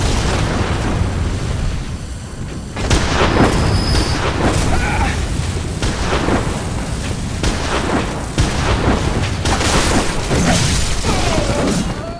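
Enemies keep shooting in Bloodborne: The Old Hunters, a loud, dense barrage of blasts and bursts that carries through the whole stretch. It is continuous rather than separated into clean single shots.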